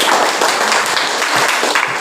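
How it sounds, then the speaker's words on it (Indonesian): Applause from a classroom of students after a group finishes presenting, steady broadband clapping filling the whole moment without pause. "Oke, tepuk tangan."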